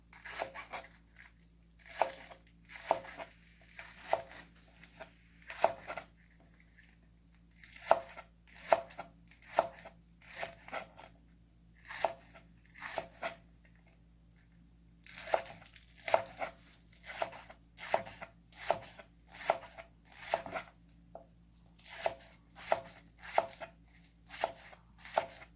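A knife chops vegetables for Vietnamese spring rolls on a board in quick rhythmic runs of crisp thuds, broken by short pauses, close and clear with no talking.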